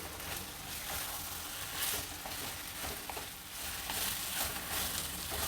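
Mango gojju fries with salt in a pan, a steady soft sizzle with faint stirring scrapes, quiet and close and unbroken by talk.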